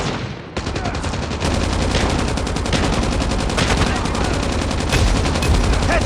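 A machine gun firing in the mobile video game Call of Duty Mobile, loud, dense bursts of rapid automatic fire that run almost without a break.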